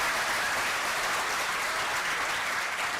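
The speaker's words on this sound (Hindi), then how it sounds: "यहाँ पर जोरदार तालियां बजाओ अपने आप के लिए।" Vigorous applause from a seminar audience, a thick continuous wash of clapping that stays loud and steady throughout the brief stretch.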